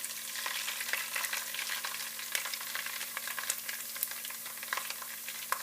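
Tomato paste sears in a hot pan, a steady close sizzle and crackle with faint scattered pops and stirring, no voices.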